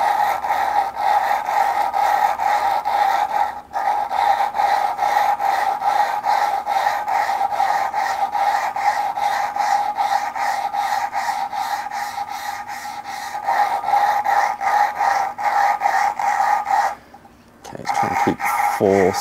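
BMW N54 engine valve lapped against its seat with abrasive compound: a continuous rapid rhythmic rasping and scraping, close and loud, with brief pauses near the start and end.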